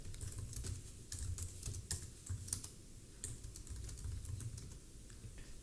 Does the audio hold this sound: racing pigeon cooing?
no